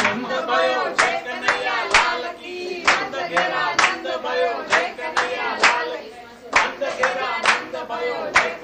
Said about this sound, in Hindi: खुशियों में डूबे लोग तालियां पीट रहे हैं,